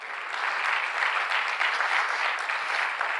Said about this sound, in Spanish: Si lo va a aplaudir, apláudalo.